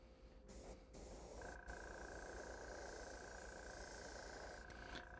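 Paint sprays from a spray gun onto the outer rim of a carved wooden fruit bowl. A soft, continuous hiss runs with a few short breaks at the start, and a thin steady tone sits under it.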